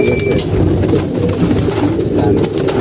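Pigeons coo in soft, repeated low murmurs, several birds close by, steady and continuous with light fluttering noise.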